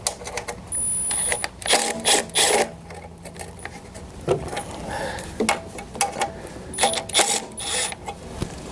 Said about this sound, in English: Let's take off the multiple 8mm bolts around the housing.